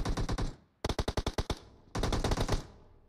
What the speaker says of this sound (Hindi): तगड़ी फायर फाइट चल रही है गाइस यहाँ पे।